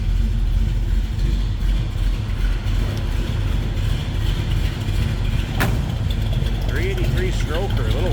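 A 1966 Chevrolet Nova with a stroker engine idles in neutral, giving a steady, close, low rumble throughout, with brief faint sounds near the end.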